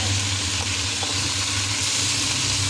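Beef frying in ghee while being flipped in a pan, a loud continuous close sizzle with faint scraping under it.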